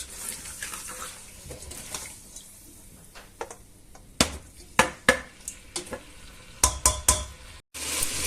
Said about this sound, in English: Let's give this a good mix about.